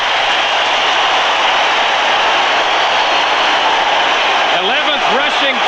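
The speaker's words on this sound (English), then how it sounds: "listen to the crowd." Loud, steady crowd roar fills the air at a USFL playoff football game in Birmingham after a Stallions touchdown, with a broadcast announcer's voice laid over the dense wall of noise.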